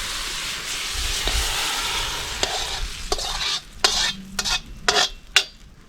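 Loud sizzling in a hot wok with flames engulfing it as morning glory is stir-fried, fading into sharp metallic scrapes and clanks of a spatula tossing food, several quick irregular strokes.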